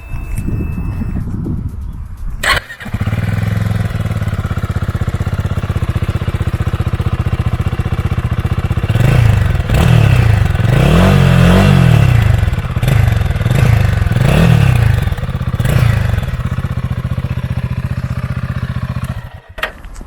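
A Royal Enfield Himalayan 450 single-cylinder motorcycle engine cranks with a sharp catch, then settles into a steady, loud, close idle with several throttle blips in the middle before cutting off.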